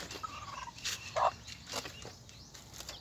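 A mother hen with newly hatched chicks gives soft, short clucking calls in a few quiet bursts against a faint background.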